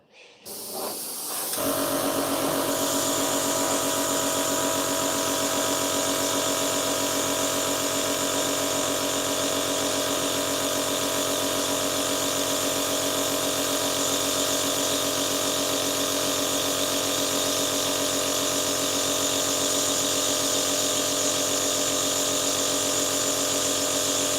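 Spray paint sprayed onto a model railway back panel: after a brief start, a loud, close, continuous hiss runs steadily without a break for over twenty seconds, with no talking.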